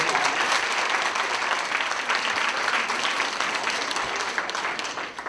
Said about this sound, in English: Everyone give me a round of applause.